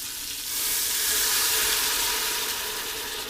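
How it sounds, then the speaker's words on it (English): Beef broth is poured into an Instant Pot over browned beef for barbacoa and hits the hot pot with a loud, steady sizzle and hiss that swells and then holds for a few seconds. "And now we're going to add 1/2 cup of beef broth."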